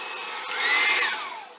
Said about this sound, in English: I have my hair dryer because heat tool is going to be too